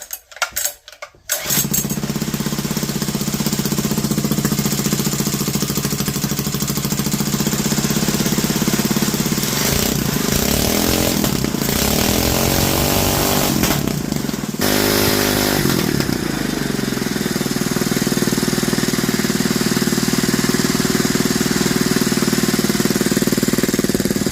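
A Honda GX200 small engine with freshly rebuilt piston rings starts up and runs steadily and loudly near the microphone, its droning hum wavering briefly partway through before settling back to a constant run.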